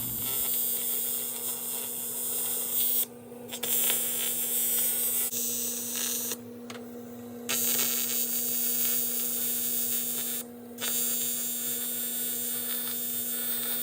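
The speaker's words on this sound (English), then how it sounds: "I'm gonna go ahead and weld this real quick." A welder buzzes in long, steady bursts on a Nissan 300ZX Z32 build with a 2JZ engine, a close electrical hum broken by a few brief pauses between welds, with no talking.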